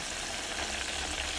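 Chicken strips sizzle steadily as they fry in hot oil over a low flame, a dense continuous crackle that stays close and even throughout.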